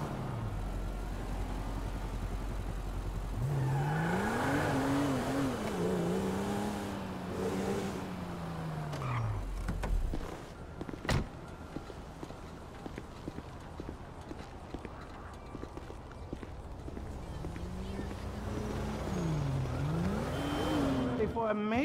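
Car driving in Grand Theft Auto 5, with an engine rising and falling in pitch as it revs and shifts, steady road noise, and a sharp knock midway.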